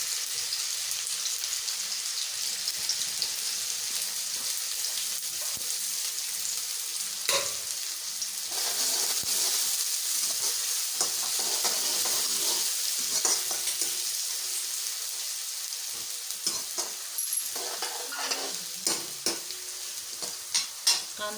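Mustard seeds, cumin, onion, garlic and ginger frying in hot oil for street-style pav bhaji, a continuous crackling sizzle with frequent spoon stirring and scraping clicks, moderately loud and with no voices.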